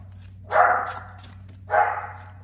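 A dog gives two separate barks close by, each with a short trailing tail, over a quiet steady hum.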